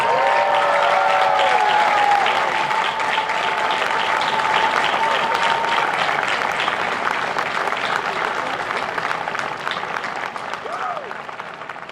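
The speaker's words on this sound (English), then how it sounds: "give a huge round of applause to those who helped you on this journey." Sustained audience applause at a University of Virginia graduation ceremony for law and business schools, a dense roar of many hands clapping that holds steady for about twelve seconds, gradually thinning toward the end, with a few faint voices in the crowd.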